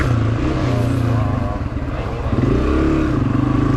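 Honda CRF250F dirt bike engine during a hare scramble race, a steady close buzzing drone that dips briefly and then revs back up as the bike rides on.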